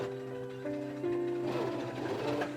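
A sewing machine stitching the interior seams of a white Regency cotton dress, a soft steady whirring hum that rises slightly in pitch and intensity partway through, fairly faint and continuous.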